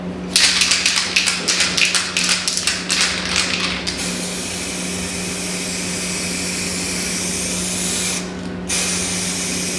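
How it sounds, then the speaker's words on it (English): Fluorescent blaze paint is sprayed from an aerosol can onto a panel. A run of rapid short hissing bursts gives way to one long steady loud hiss with a brief break, and there is no talk. "Doesn't help spraying this upside down"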